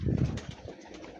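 A female pigeon coos up close, a low throaty burble followed by softer murmurs.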